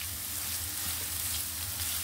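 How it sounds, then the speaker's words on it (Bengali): Onion frying in oil in a pan until reddish, a close, steady crackling sizzle that holds evenly throughout. "পেঁয়াজটা আমি একটু একটু লাল করে ভেজে নিব।"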